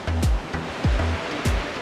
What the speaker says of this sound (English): You hear the waves crashing.